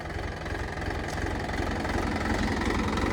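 A tractor engine rumbles steadily at close range during wheat sowing, a continuous low throbbing drone with no pauses.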